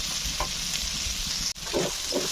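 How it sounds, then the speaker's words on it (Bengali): Bean and new potato bhaji is stirred in a wok, a low continuous sizzle under repeated scraping strokes of a spatula, close and clear, with one sharp knock midway. "এখন আমি অনবরত নাড়াচাড়া করে নিব"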